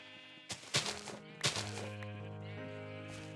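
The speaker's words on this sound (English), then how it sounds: "The sheep of comfort is now in among all the Jeb sheep" Sheep bleating in Minecraft, with two sharp thunks followed by drawn-out bleats from several nearby sheep, heard alone without talk.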